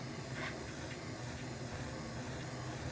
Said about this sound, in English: You can hear the water that's in there sizzling.